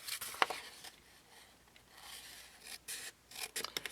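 Quiet, close scissors snipping through paper along a score mark, a sharp click early on, then soft rasping cuts and a few quick snips near the end.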